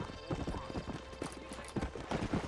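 A horse gallops in the Red Dead Redemption video game, its quick, uneven clip-clop hoofbeats coming in rapid bursts at a fairly quiet level.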